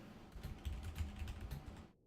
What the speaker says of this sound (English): And yes, I know my my keyboard typing is audible.